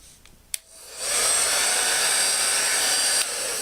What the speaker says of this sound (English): And you just hold this really straight like that, and then blow dry it.